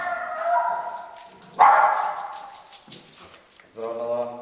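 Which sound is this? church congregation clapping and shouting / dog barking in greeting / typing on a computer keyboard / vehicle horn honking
dog barking in greeting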